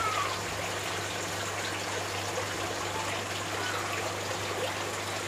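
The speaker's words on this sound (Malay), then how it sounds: "Yang ini pun hanya ada bunyi jatuhan air." Water falls steadily into a recirculating aquaculture fish tank, a constant even splashing rush under a low, continuous mechanical hum.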